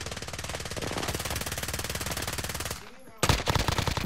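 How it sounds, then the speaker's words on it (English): Rapid automatic gunfire rattles in a Call of Duty Warzone match, a long continuous burst that breaks off briefly and then resumes loudly. "Someone's shooting."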